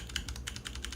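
Keys tapped on a computer keyboard while testing a Rust GUI app, with a quick, faint run of light clicks in an uneven rhythm over a low background hum.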